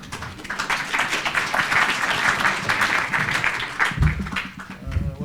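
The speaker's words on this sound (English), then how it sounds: "Applause for Caroline." Applause for Caroline fills the room at a celebration event, with many hands clapping steadily for several seconds. Toward the end it thins out and a voice begins to speak.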